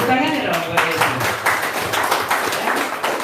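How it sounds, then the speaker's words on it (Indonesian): A church congregation claps along during a worship service, a busy spread of overlapping hand claps with voices mixed in. "Tepuk tangannya dong buat Yesus"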